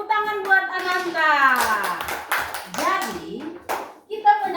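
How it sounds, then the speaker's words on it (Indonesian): A group of young schoolchildren claps together in a classroom, a brisk cluster of hand claps mixed with their chatter and an adult's voice. "Tepuk tangan buat Ananta."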